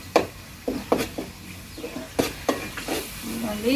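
Ginger paste and green chillies fry in oil while a spoon stirs them, so sharp scraping clicks land irregularly over a soft, close sizzle.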